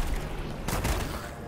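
A shotgun-like magic ability fires once in the action game Forspoken, a single broad, punchy blast with a rumbling low end over a steady ambient bed, short and fairly loud.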